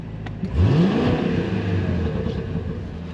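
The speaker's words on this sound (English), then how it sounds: "Pops and bangs as usual for a supercharger. You can just hear the exhaust." A Cadillac CT5-V Blackwing's supercharged V8 revs hard in track mode, its exhaust swelling into one loud rising sweep that then settles into a steady rumble, close and continuous.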